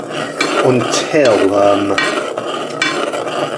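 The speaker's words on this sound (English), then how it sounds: "stir it up as hard as I can, otherwise the bottom of the pan will burn" Fudge being stirred hard in a pan, a spoon scraping and knocking steadily against the bottom with clinking, close and fairly loud, no talking.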